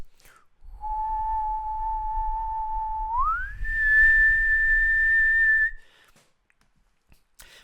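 A steady pure tone holds one pitch, then glides up to a higher note and holds again before cutting off, with a faint low hum underneath.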